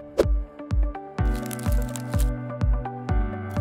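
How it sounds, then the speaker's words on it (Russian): A plastic lid is removed from a container and a small plastic bag is picked up, giving a series of sharp crinkly snaps and squishy rustles at close range, repeated roughly every half second, with no talk. "Снимаем крышку и берем пакетик."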